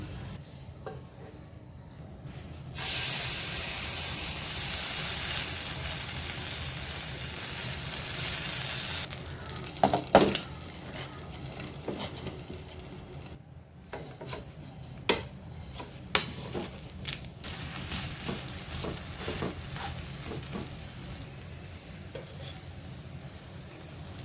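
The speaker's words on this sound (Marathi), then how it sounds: "एका बाजूने छान शेकला आहे आता पलटी केला आहे मी" A small moong dal chilla fries in a pan just after being flipped, giving a steady soft sizzle with occasional light clicks and scrapes of a utensil, close by and with no talk.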